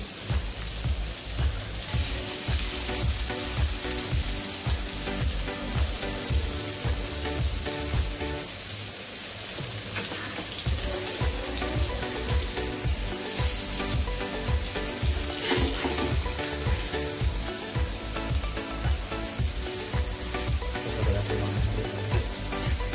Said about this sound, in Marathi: अशा प्रकारे सगळ्या साईडने त्याला फ्राय करून घ्यायचं.